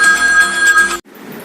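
A telephone rings on a radio phone-in as a caller is dialled, a steady bright electronic ring for about a second that cuts off abruptly into a quiet line hiss.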